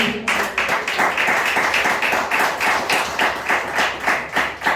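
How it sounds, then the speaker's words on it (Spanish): A church congregation claps together in a steady rhythmic beat for the Lord, loud and close, the pulses running evenly throughout with no talk over them. "Dale palmas al Señor"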